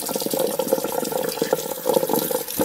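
Fish for sour fish being rinsed under cold running water, a close, continuous splashing and gurgling stream with uneven bursts throughout.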